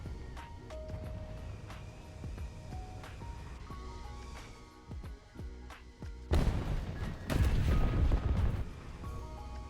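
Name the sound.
bomb dropped and exploding in video game War Thunder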